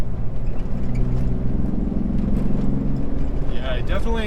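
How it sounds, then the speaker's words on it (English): Steady low road rumble and engine drone inside a Jeep JK with a 3.6 Pentastar and aFe Magnum Force Stage 2 intake while driving, continuous and fairly loud, with a brief higher hiss near the end. "there's a lot of road noise"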